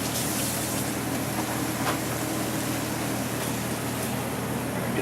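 Water runs steadily from a kitchen tap as a hand is quickly rinsed while bananas foster is being cooked, a constant even rush with no talk.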